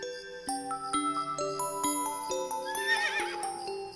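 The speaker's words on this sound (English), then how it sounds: "That's a horse." A horse neighs in a bright, descending whinny over a cartoon farm scene, with clip-clop hooves and light jingling music throughout; the neigh rises loud near the end.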